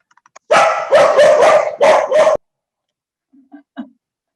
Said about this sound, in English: Those are your dachshunds, I'm assuming.